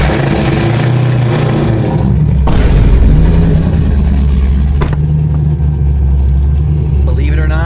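A car engine idles with its exhaust valves closed, a deep throaty rumble with a brief rev and bursts of louder noise partway through, with a voice speaking over it near the end.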